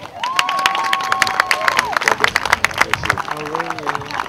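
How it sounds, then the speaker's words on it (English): An audience at a youth event claps and cheers for a martial arts school's demonstration, a burst of applause with shouts while a voice speaks over it. "So give a round of applause for Wade Williams."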